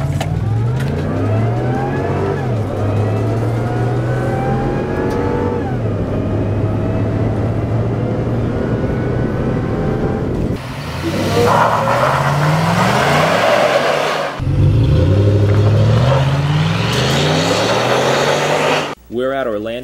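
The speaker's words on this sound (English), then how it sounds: "We're here road testing the VMP TVS Supercharged Raptor." A VMP TVS supercharged 2013 Ford Raptor pickup accelerates hard on a road test, loud engine rising through several gear changes with a whining supercharger, close and continuous, with some voices mixed in.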